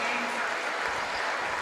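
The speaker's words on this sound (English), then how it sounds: "Great ovation from the crowd and well-deserved for all the hard work and effort those 4 ladies have put in." Crowd ovation at a women's basketball game honoring the seniors: steady, dense applause and cheering filling the arena, sustained throughout without pause.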